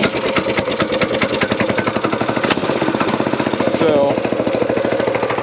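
A Coleman mini bike's small engine runs steadily at idle with a rapid, even, chugging pulse, loud and close throughout, and a voice briefly speaks over it.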